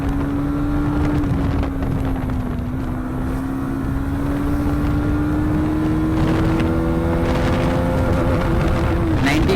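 A 2023 Bajaj Pulsar NS200 motorcycle accelerates hard on a speed test, its engine drone rising steadily in pitch under heavy wind rush, with a brief dip near the end like a gear change.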